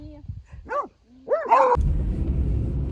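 Dogs out on a walk in the rain give two or three short, loud barks close by, then a steady, noisy hiss of rain and movement takes over for the rest of the clip.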